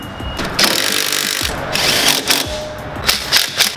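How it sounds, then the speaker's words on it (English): Bolts being tightened on a 2017 Camaro SS 1LE suspension during a lowering spring install, with several bursts of rapid ratchet clicking separated by short pauses and handling noises, close up. "Then we'll tighten down our bolts"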